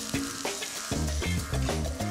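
Two smashed garlic cloves hit a hot pan with pepper and give off a steady, close frying sizzle, with music playing underneath.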